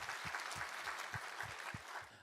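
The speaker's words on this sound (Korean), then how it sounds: "우리 하나님께 감사와 영광의 박수 올려드리겠습니다." A church congregation claps in praise during a Korean worship service, a brief, soft burst of crowd clapping with a few distinct hand claps standing out, heard at a distance.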